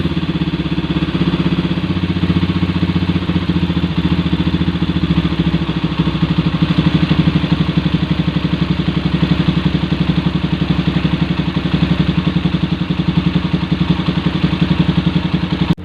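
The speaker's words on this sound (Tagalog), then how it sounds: "kahit mababa yung idle ng motor ko hindi siya namamatay" A motorcycle engine idles steadily after carburetor tuning, a close, loud, even putter with a fine rhythmic pulse and light mechanical clatter, holding a low idle without stalling and no talking over it.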